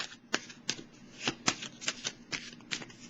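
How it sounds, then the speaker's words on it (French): Tarot cards are handled close by, with crisp, quiet card flicks and snaps repeating about eight times at an even rhythm. "Je vais piger une autre petite carte."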